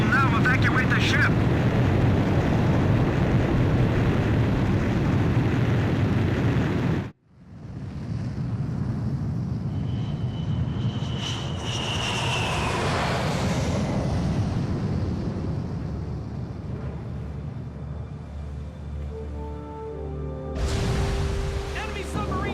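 A fighter jet roars off a carrier catapult in Ace Combat 5 as loud, sustained engine and wind noise, cuts off briefly, then rises again with a sweeping whine, while a voice speaks over it.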